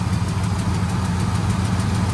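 A loud truck engine idles steadily up close, with a fast, regular ticking pulse from an exhaust leak riding over the low rumble.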